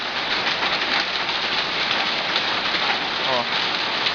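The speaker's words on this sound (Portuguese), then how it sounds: "Granizo, gente." Hail pelts the ground and pavement in São José dos Pinhais as a dense, steady patter of many small impacts, with a voice faintly present.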